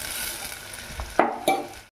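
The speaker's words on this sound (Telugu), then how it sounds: "అది గరిటెతో తిప్పుకొని కొంచెం ఫ్రై చేసుకుందాం." Sliced onions frying in a pan and stirred with a ladle give a soft hiss, then two sharp metallic clinks of the ladle near the end.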